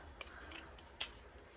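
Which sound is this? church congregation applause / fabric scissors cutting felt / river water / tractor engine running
fabric scissors cutting felt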